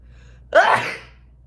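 A single sharp sneeze from a pregnant woman bursts out close by after a brief quiet moment, then fades with a short exhale.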